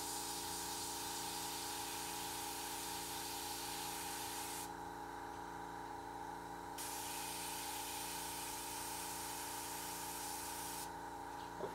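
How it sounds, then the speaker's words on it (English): An airbrush sprays paint steadily over a high-detail stencil, giving a continuous, close hiss with a steady pump-like hum underneath and brief breaks in the airflow partway through. "Of course, I also spray on top of it"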